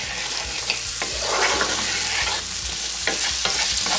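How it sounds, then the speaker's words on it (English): Potatoes frying in hot oil in a skillet while being stirred, a steady close sizzle broken by scraping and clacking from the spoon. "You want to give this a little stir"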